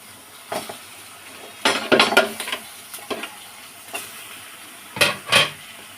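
Rohu fish heads go into hot oil in a pan over a low background hiss, bringing bursts of sizzling and clattering spatters in clusters, followed by two more sharp sizzle bursts later on.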